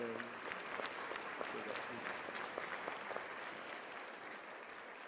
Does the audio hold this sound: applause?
yes